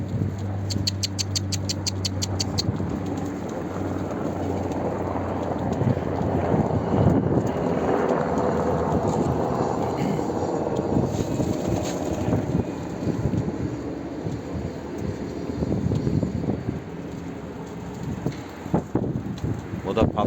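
Strong wind buffets the microphone in a continuous roar with gusts, while a voice talks intermittently beneath it.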